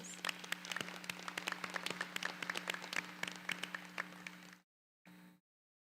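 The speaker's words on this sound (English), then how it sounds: "Now that's a big reason for a huge applause" Applause from a community college commencement audience, a dense, sustained wash of clapping from a large crowd that continues steadily before cutting off abruptly, with a brief resumed burst after a short gap.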